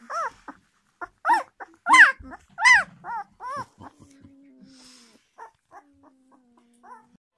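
Newborn German Shepherd puppies whimper and squeal at home just after birth, a run of close, high, wavering cries in quick bursts that thin out into a few faint squeaks over a low hum.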